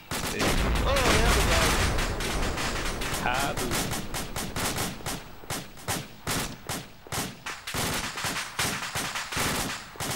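Rifle and machine-gun fire crackles during live-fire military training, first as a dense overlapping barrage, then in sharp separate bursts and single shots at a steady pace, loud and close.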